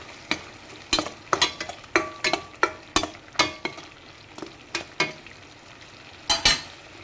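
Chitranna masala frying in oil as salt is mixed in, a soft sizzle beneath a series of sharp, irregular spoon scrapes and clanks against the pan, close and clear.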